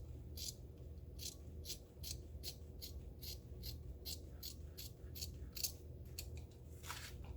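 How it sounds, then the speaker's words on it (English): Scissors snip through fabric while a hot or cold compress is being made, about a dozen quick, crisp cuts in a steady rhythm, close and fairly quiet over a low background hum. "I like to come through and I like to snip just on either side a little bit"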